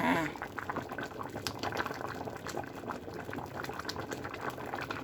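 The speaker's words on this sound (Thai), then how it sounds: "มันก็ต้มด้วยจ้าข้าวต้มปลาไซมอน จ้า" A pot of rice porridge with salmon bubbles at a steady boil, a dense close burble of popping bubbles that carries on without pause and is heard alone.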